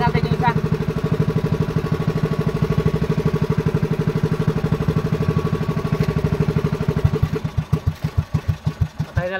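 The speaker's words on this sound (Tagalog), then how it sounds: "Patayin na natin yung makina." A motor engine idles with a steady, rapid thumping pulse up close, then slows into separate heavy chugs near the end as it winds down.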